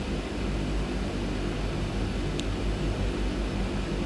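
A Twin Otter's engines at run-up in Microsoft Flight Simulator 2020 make a steady, loud, dense roar with a low throbbing pulse, holding constant throughout with no voices over it.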